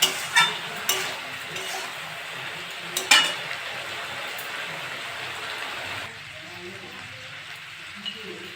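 Potato, beet, carrot and onion stalks fry in a pan as a spoon clinks and scrapes through them, with soft sizzling underneath and someone talking over it.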